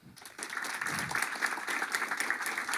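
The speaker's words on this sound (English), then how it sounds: "But give him a good applause" Applause at the close of a company talk on running post-mortems, starting after a brief pause and holding steady as a dense patter of clapping from a modest audience, fairly close and without talk.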